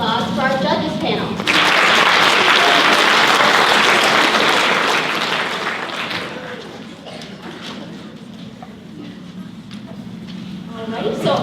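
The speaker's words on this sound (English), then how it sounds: "Let's give another round of applause for our judges panel" An audience at a school poetry recitation event applauds the judges panel, a loud sustained round of clapping that swells early, then slowly thins and fades with a few scattered claps and murmurs, and a voice speaks at the start.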